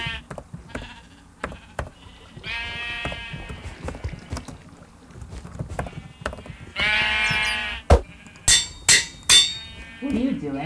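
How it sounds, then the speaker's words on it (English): Minecraft sheep bleat repeatedly in short, loud, wavering calls, several overlapping in bursts, with sharp blocky clicks and thuds from the game between them. "Managing sheep again."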